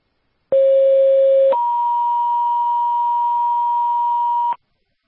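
Two steady electronic dispatch alert tones sound back to back, a short lower one then a longer higher one, loud and clean with no talking, calling an ambulance to a second-alarm apartment fire.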